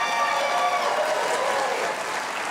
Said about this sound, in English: Oh, I love to get applause.